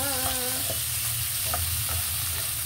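Vegetables and tomato sautéing in a pan for ginisang sitaw, a steady sizzle with stirring scrapes and clinks, close and continuous with no talking.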